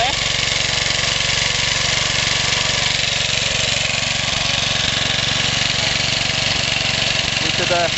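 A Suffolk Briggs small engine runs continuously at a steady, loud close throb on its first ever run, with a voice talking over it.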